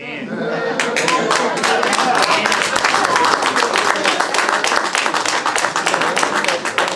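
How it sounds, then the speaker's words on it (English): An audience at a live real estate seminar breaks into loud, sustained clapping that swells quickly and continues as a dense, even wash of applause. "And you clap like you just did."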